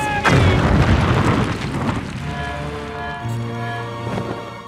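A cartoon shooting star plunges down and crashes with a loud booming impact near the start, its rumbling debris fading under ringing musical tones.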